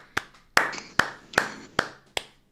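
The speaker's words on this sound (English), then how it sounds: "I don't really want to clap for that" A few sharp, close hand claps on a volleyball talk show, spaced evenly at a slow, deliberate pace, each crisp and isolated with no talking.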